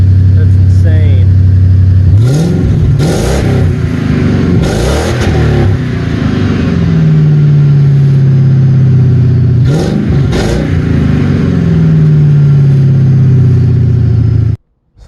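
A Ford Crown Victoria with a newly installed exhaust revs repeatedly up close, loud throttle blips rising and falling between steadier idle stretches before cutting off at the end.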